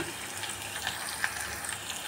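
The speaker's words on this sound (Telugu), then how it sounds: "ఇప్పుడైతే ఆనియన్ వేస్తున్నాను. సో నేనైతే ఆనియన్స్ కూడా వేసుకున్నాను. మంచిగా ఫ్రై చేద్దాము" Faint, steady sizzling of onions frying in a pan, with a few soft clicks and pops over a low background hiss.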